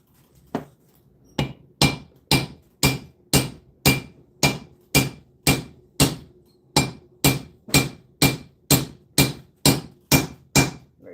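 A metal hammer strikes a brass piece during a Grizzly head rebuild, about seventeen sharp, ringing blows at a steady, even pace, close and loud with no voices.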